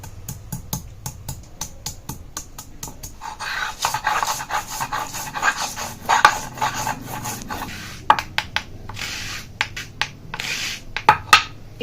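Garlic and ginger are ground by hand on a grinding stone, a rhythmic rasping rub of stone on stone with sharp knocks, close up and uneven in pace.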